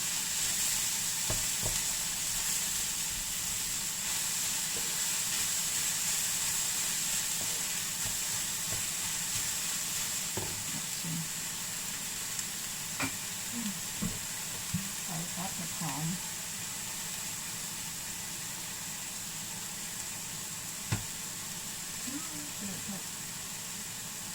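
Rice stir-frying in a pan sizzles steadily at a low level, with occasional soft scrapes and clinks from stirring over a constant hiss.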